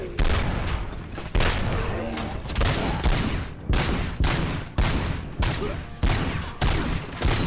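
Rapid gunfire in the video game RoboCop: Rogue City, heavy repeated shots in quick irregular bursts with sharp attacks and booming tails, loud and close, continuing through the whole stretch.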